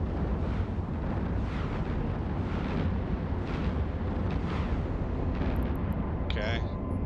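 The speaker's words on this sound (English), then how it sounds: "We're going to put all 4 bays onto this missile battery. And the Rage rockets hit pretty hard." Heavy rocket impacts from a missile battery firing Rage rockets in the space game EVE Online, a dense continuous roar of explosions with rumbling blasts throughout and a brief electronic chirp near the end.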